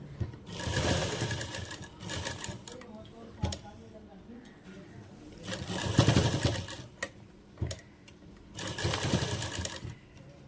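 A sewing machine stitches lace along the edge of a lehenga blouse neckline, whirring in three bursts separated by short pauses, close and fairly loud, with faint handling noises between runs.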